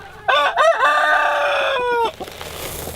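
Rooster crowing loudly and close by, one full cock-a-doodle-doo lasting nearly two seconds, with hen clucks and fowl noises around it in a chicken coop where the birds nest without nest boxes.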